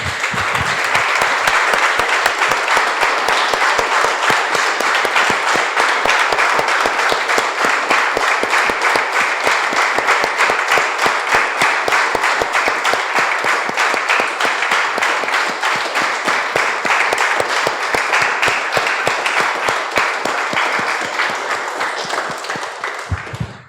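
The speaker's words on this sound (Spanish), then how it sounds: "Damos un aplauso, hermanos, al Señor." Sustained loud applause from a church congregation, steady dense clapping that continues for the whole stretch and only begins to thin at the very end.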